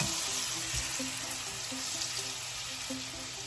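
Food sizzles steadily in a hot pan, a continuous bright frying hiss with faint clinks and stirring scrapes underneath, close and without any talk.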